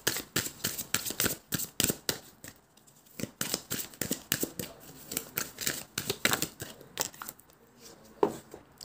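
Oracle cards being handled and shuffled, a rapid run of crisp riffling flicks and taps, close and fairly loud, with a couple of brief pauses between bursts.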